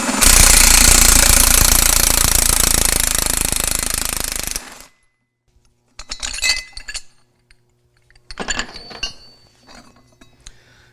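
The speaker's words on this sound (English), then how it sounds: "You can use a battery-powered impact, an air impact." An impact wrench rattles loudly and continuously for about five seconds while loosening the impeller lock on a Berkeley 12JG pump. Metallic clinks and handling noises follow in short bursts.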